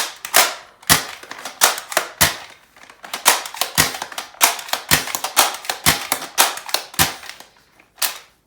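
Zuru X-Shot Bug Attack Swarm Fire toy blaster being handled, with a rapid series of sharp plastic clicks and clacks as the slide cycles, loud and close, around a dozen snaps over several seconds with no talking.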